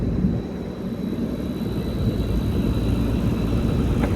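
An old Massey Ferguson MF 32 combine harvester runs with its engine mounted high at the rear, giving a steady, low droning rumble at moderate volume, heard from the front of the machine with no talk over it.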